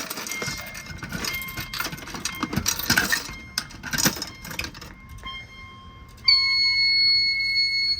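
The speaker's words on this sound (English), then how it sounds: "Gotta hear that chime strobe just die down like that." A Fire-lite BG12 fire alarm system with chime strobes after reset, with metallic clattering and ringing at first, then sustained high electronic chime tones that drop off and fade away near the end.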